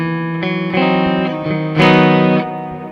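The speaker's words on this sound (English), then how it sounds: "So we're running EP booster, Alter Ego, reverb on the amp." Electric guitar through an EP booster, Alter Ego delay and amp reverb, ringing chords struck in a few strums with sustained, echoing tails that swell louder near the end, played alone and close.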